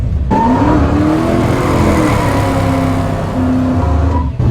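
1966 Dodge Coronet with a HEMI engine accelerating hard, a loud, rising V8 roar climbing through the revs and easing near the end, heard up close and alone.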